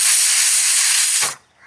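A pressure cooker on a stovetop, used while cooking sambar, lets out one loud, sustained steam whistle that hisses for over a second and then cuts off abruptly, leaving near silence.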